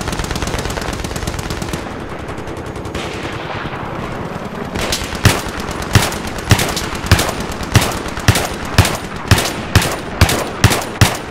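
Battlefield 3 gunfire, a steady rhythmic string of loud, sharp shots about every half second in the second half, following heavier mixed battle noise, with no talk.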